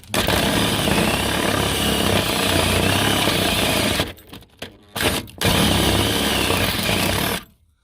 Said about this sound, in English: How many tumblers we're going to have to drill out before it turns?